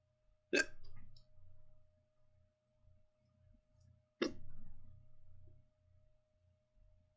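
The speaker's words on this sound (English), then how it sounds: "now I got the hiccups" Two sharp, close hiccups from a man, several seconds apart, each followed by quiet breathing in an otherwise still room.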